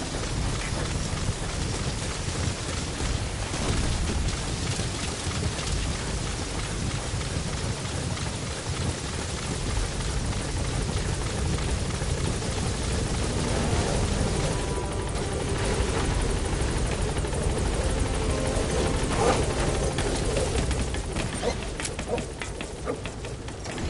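A helicopter in Metal Gear Solid V: The Phantom Pain keeps up a steady rotor drone mixed with a rain-like wash, loud and unbroken for over twenty seconds, with no spoken words.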